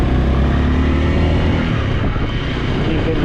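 A 2022 Honda Rebel motorcycle, a CMX300 or CMX500, pulls away under a little throttle in a low gear. Its loud, close engine rumble holds steady throughout, with road and wind noise and no talk.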